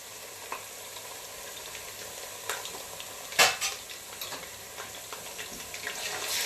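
Ginger garlic paste fries in hot oil for chicken biryani, a soft steady sizzle with a few sharper crackles and spatters, close and fairly quiet with no talking.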